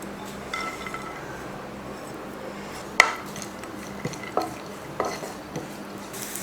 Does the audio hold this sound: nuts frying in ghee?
yes